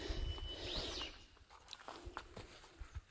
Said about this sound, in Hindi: पंछियों की आवाज़ सुन रहे हैं आप